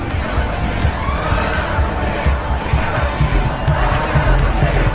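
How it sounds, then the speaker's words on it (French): A large crowd protests in a film scene, a loud, dense roar of many voices and shouting that holds steady throughout. "Une foule importante manifesta contre elle"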